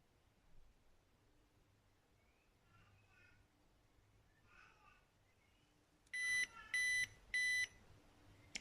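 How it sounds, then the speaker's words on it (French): A portable USB-C baby bottle warmer signals it has finished with three loud, evenly spaced electronic beeps near the end, following quiet handling noises. "ça va sonner quand ce sera terminé"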